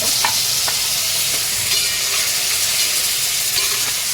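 Onion and tomato fry in a pan, with a steady hissing sizzle, occasional stirring scrapes and small pops throughout, close and fairly loud.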